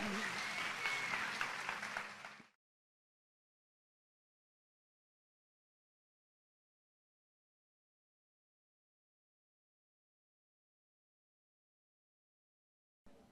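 An audience applauds after a talk on communication in women's leadership. The dense clapping runs for about two and a half seconds, then cuts off abruptly into silence.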